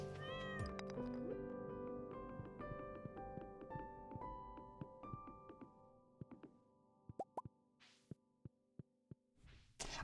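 In the Stardew Valley video game, a petted cat meows over dense, layered game music with plinking notes, followed by a series of short, soft percussive plops spaced out near the end.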